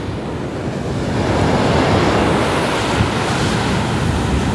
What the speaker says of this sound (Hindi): बहुत सुंदर बीच है, ये